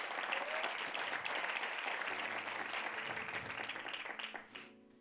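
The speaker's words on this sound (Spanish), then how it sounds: "quiero que le demos un aplauso a la palabra de Dios antes de comenzar." Applause in a church service, with a congregation clapping together in a broad sustained wash that tapers off at the end.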